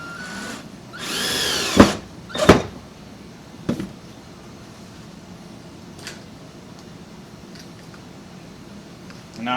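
Power drill driving 1 1/4 inch galvanized screws into a wooden airlock holder, a short burst of whirring with a couple of sharp clicks, then scattered small knocks and near quiet.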